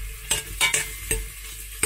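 Leftover cauliflower frying gently in a pot over moderate heat before being made into soup, a steady soft sizzle broken by several stirring scrapes, close and without talk.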